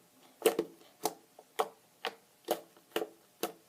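Fluffy slime stretched and folded by hand, giving about eight soft, sticky snaps at a steady rhythm, close and quiet with no talking.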